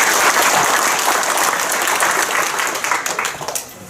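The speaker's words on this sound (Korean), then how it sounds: "다시 한번 큰 박수 부탁드리겠습니다" An audience at a 2021 Korean traditional archery referee training seminar applauds after a lecture on archery rules and doping, giving dense, sustained clapping that thins into scattered claps at the end.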